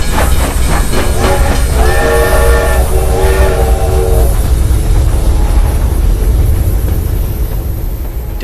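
A loud train rumbles past close by with a steady roar and rattling wagons, a sustained horn blasting for a couple of seconds midway before the rolling noise slowly fades.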